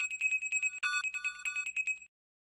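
A phone rings in a repeating electronic trill of quick, bright pulses for about two seconds and then stops, with silence after it and no voices.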